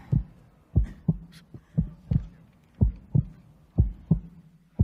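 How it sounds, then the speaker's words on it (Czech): Heartbeat sound effect played over the PA at an awards show, a steady lub-dub throb repeating about eight times, loud and close with a faint room hum beneath. "poprosíme prvně tlukot srdce. Dlouhý tlukot srdce."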